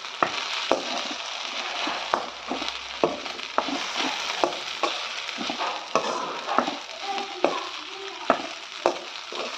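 Okra fry being stirred in a pan with spice powder, a steady sizzle broken by frequent sharp scrapes and clacks of the spoon against the pan, close and moderately loud.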